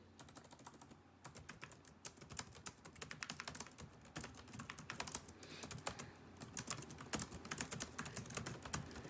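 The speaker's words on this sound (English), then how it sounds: "I have to type that out." Steady, rapid typing on a computer keyboard, with dense, irregular key clicks running throughout, fairly quiet and alone without any talking.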